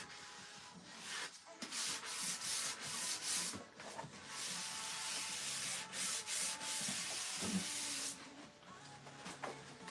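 Sanding a varnished wood surface between coats to key it, a steady soft rubbing hiss with continuous back-and-forth strokes, close and fairly quiet, with no one talking.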